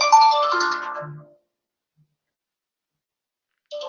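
A phone ringtone from the Vulcan 7 dialer, a loud electronic ring that plays for just over a second, fades into silence, then starts again at the end.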